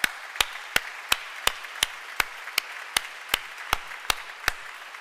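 A church congregation at Sunday Mass claps for the altar servers in steady unison, about a dozen sharp, evenly spaced claps ringing out in a reverberant hall.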